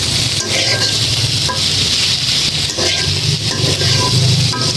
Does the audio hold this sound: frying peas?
yes